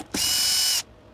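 A power drill spins out screws on a Tineco Floor One S3 cordless vacuum during battery replacement, one steady high whirring burst of about two-thirds of a second, close and loud.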